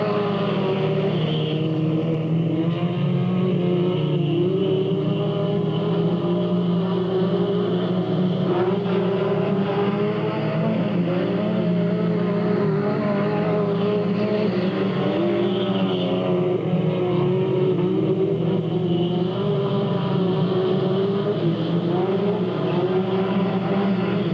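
Stock cars at Delta Speedway pour off the corner onto the green in a dense, continuous engine roar that holds loud for the whole stretch, with the pitch of the pack rising and falling.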